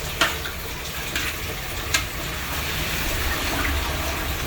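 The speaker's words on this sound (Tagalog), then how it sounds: "Tapos halo-halo yan siya, lagi kasi hindi pwedeng hindi halo." Rice porridge (lugaw) is stirred in a pot. A spoon taps and scrapes the pot a few times over a steady bubbling simmer close by, with no talking.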